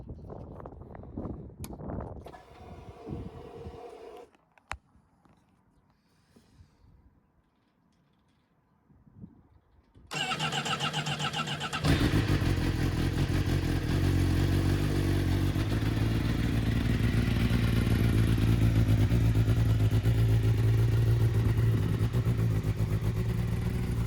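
A crash-repaired 2024 Honda Fireblade motorcycle engine starts with a burst and then runs steadily and loudly close by, the revs holding high and building slightly, with no talk over it.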